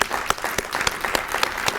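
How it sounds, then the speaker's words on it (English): Brief, dense applause at an annual awards meeting, with many hands clapping close by and a few sharper individual claps standing out from the steady patter. "Let's give them a round of applause."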